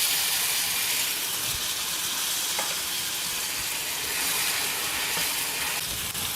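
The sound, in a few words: tomatoes sizzling as they are added to a hot pan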